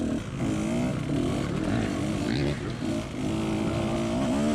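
A dirt bike engine runs on a muddy trail, revving and varying in pitch as it rides through puddles, close and continuous with a rough mechanical drone.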